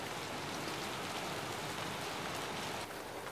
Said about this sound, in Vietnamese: Tự nhiên trời đang nắng chang chang mà mưa xuống một cái.